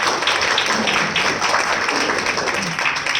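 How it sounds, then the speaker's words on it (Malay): An audience at a gathering claps in a dense, steady wash of applause that stays loud the whole time, with faint voices mixed into the crowd noise. "Satu tepukan kepada diri kita."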